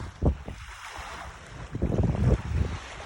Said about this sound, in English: So if you're hearing the waves,